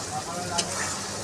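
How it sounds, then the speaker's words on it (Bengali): Potatoes stir-fry in hot oil in a pan, with a soft continuous sizzle and a faint scrape of stirring around the middle, all at a low level. "আলুটা দিয়ে কষিয়ে নেব। কষানো হয়ে গেছে, এবার দেখুন তেল ছেড়ে দিয়েছে"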